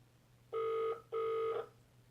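A WatchU kids' smartwatch places an emergency call, giving two clear electronic ringback tones of about half a second each, close and alone over a faint hum.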